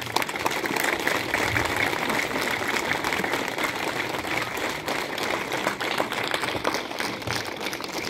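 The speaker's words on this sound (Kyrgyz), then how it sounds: "чоң дүлбүрөтүп кол чабып койсоңуздар" Sustained audience applause at a social housing handover ceremony in Gulcho, Alai, Kyrgyzstan, steady and dense for the whole stretch with no voices on top.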